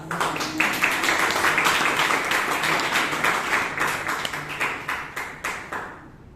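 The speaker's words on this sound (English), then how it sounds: "A round of applause to yourself and the table topic" An audience at a Bangalore Toastmasters meeting applauds the table topics participants, a full, sustained round of clapping that thins toward the end into a few scattered claps before fading out.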